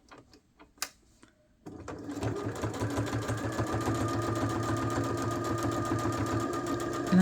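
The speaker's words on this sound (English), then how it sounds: "I'm just running it off here because I want to be sewing over this, so there's no reason to backstitch." After a few light clicks, a sewing machine starts and runs steadily, stitching sweatshirt fabric with a fast, even mechanical whir and needle chatter, close and fairly loud.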